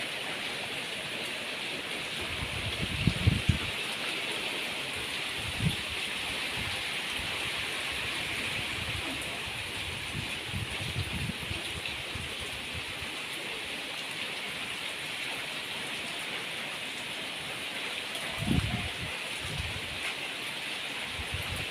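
Heavy rain pouring down steadily during a downpour, a dense unbroken hiss heard from indoors, with a few brief low thumps and bumps scattered through it.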